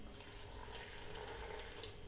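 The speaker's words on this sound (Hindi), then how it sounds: "तकरीबन आधा कप पानी मैंने इसमें ऐड किया।" Water pours into a mint chutney mixture being blended, a soft, steady splashing flow heard up close without talk.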